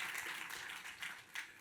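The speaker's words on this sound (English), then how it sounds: "feel free to clap" Scattered audience clapping at a panel discussion on New York City housing, faint and brief, with a few louder bursts near the end and no speech.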